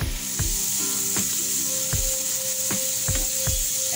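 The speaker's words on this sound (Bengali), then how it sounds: "এটা আমি এখন ভেজে নেব।" Potatoes frying in mustard oil in a pan give a constant bright hiss, punctuated by regular knocking taps of a spoon or spatula, close and moderately loud.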